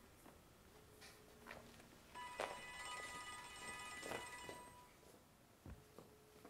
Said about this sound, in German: Gehst du mal an dein Telefon?